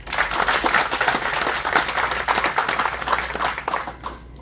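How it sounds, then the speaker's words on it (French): Applause at a graduation ceremony for nursing course recipients, a loud, sustained patter of many hands clapping that eases off toward the end. "nous allons applaudir Madame James Mekala"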